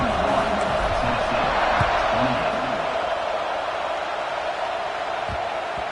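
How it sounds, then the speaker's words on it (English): Stadium crowd at a college football game with Oklahoma, a steady loud roar building before a kickoff after an extra point at 31-28, with a few thumps and bursts over the continuous noise. "this crowd now ready to get behind them"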